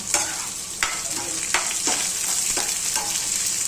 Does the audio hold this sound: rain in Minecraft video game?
no